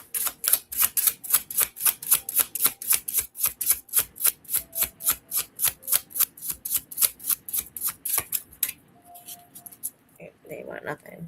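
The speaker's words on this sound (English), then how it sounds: "Last shuffle." Tarot cards being shuffled by hand, a long run of rapid, evenly spaced crisp riffling bursts that stop near the end, close and clear, with a brief voice after.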